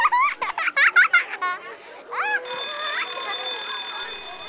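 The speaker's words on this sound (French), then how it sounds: "Oh, la sonnerie!" A school bell rings in a children's cartoon, a bright, continuous electric ringing that cuts in midway and holds loud after a burst of children's excited voices.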